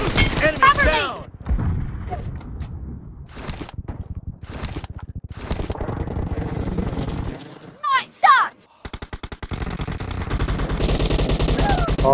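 Gunfire in the battle royale game PUBG on the Sanhok map: loud bursts of rapid automatic shots, some isolated cracks, a brief lull, then a long sustained volley, with speech in places.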